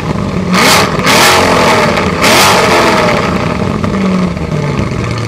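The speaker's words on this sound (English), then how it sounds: "Foot on the brake, push the button, and that magnificent LT2 engine roars into life." A Chevrolet Corvette E-Ray's LT2 V8 fires up and revs hard, loud and close, with a couple of throaty surges in the first few seconds before settling into a dense, rumbling idle.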